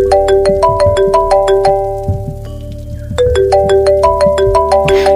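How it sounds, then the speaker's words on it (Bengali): A mobile phone ringtone playing a bright, repeating electronic melody of plucked, bell-like notes in a steady rhythm, loud and close, with a brief quieter pause midway before the tune resumes. "রাতে খাওয়া দাওয়া সেরে তরু ফোনটা হাতে নিতেই মিলনের ফোন এলো।"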